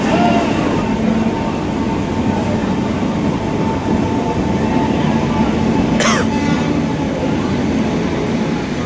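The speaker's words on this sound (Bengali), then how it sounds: "মুড়ি খেতে খেতে দেখি ট্রেন এসে হাজির" A train pulls into a station, a loud, steady rolling rumble that fills the whole stretch, broken near the end by a brief sharp metallic squeal; faint voices may sit underneath.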